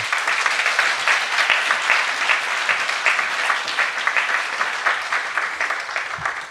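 A church congregation at a Korean Sunday worship service applauds steadily and loudly, a dense wash of many hands clapping without pause, with no talk over it.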